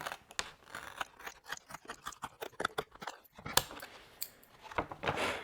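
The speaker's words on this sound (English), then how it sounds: "I've got one more row, one more line to cut before this is done." Rawhide being cut into lines for a bowstring, a string of short, close snipping and slicing strokes in quick irregular rhythm, nearby and fairly quiet, with no voices.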